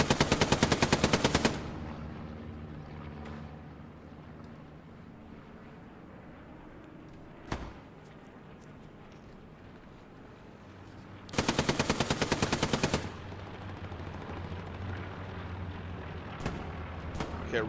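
Machine gun fire in Hell Let Loose, two loud, close bursts of rapid rattling shots, one at the start and one near the middle, with scattered distant shots and battle noise between.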